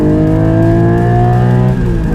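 A loud Porsche 718 Cayman GT4 engine holds a high, steady rev near its 8,000 RPM limiter, a strained buzzing whine that dips briefly toward the end.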